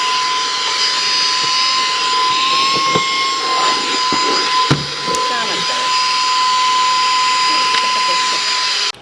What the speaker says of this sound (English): So this is going to be nice for me for quick grabs, just to vacuum real quick